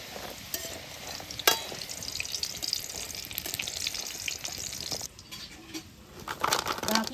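Atta khurma, wheat-flour dough pieces, frying in hot oil in a pan, a steady crackling sizzle with occasional sharper pops and stirring clinks, close and continuous without speech.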